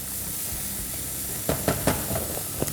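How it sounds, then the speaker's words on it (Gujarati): Spiced mixed vegetables for Schezwan potli being tossed in a hot pan, a soft steady sizzle with a few quick spoon scrapes and clatters near the end. "પાછું આપણે એને એકવાર બધો મસાલો કરીને હલાવી લઈએ."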